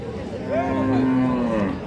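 A cow at a cattle market, with a heifer calf beside it, gives one long, loud moo that swells and holds before tailing off, close by over faint market murmur.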